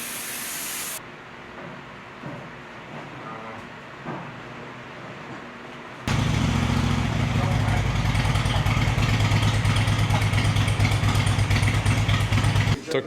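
A Harley-Davidson Road King motorcycle engine, under rebuild with an oil-sumping fault, idles quietly with faint background noise, then suddenly roars into a loud, steady, rumbling run up close.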